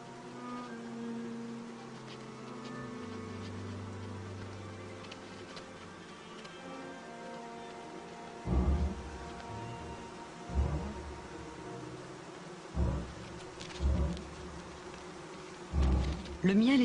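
A steady, close droning buzz of many bees, with occasional louder bumps and knocks cutting through the hum.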